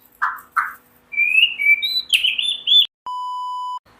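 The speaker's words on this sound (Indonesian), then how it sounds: "Murai batu ada dua karakter, jinak dan giras. Contohnya di murai batu saya ini" A hand-tame white-rumped shama (murai batu) gives a few short calls, then a run of clear whistled notes, close and alone in quiet surroundings, ending with a steady electronic-sounding tone.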